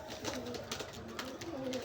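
Pakistani Maya pigeon cooing close by in a steady run of soft, throaty, repeated coos, with no talking.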